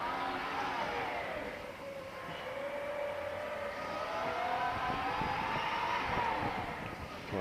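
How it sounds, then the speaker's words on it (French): A compact three-wheel Hangcha electric forklift drives along. Its electric motor whines continuously, rising and falling in pitch over a low rolling rumble, steady and moderately near. "Donc là, on a un petit chariot électrique très compact, 3 roues."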